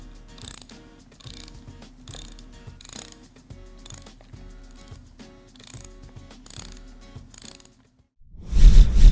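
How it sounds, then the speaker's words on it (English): A ratchet clicks in repeated bursts while new bolts are tightened on an air spring upper mount for a Cayenne, Touareg or Q7, close and steady, then stops briefly before a loud rumbling thump at the end. "Install the four new bolts securing the air spring to the upper mount."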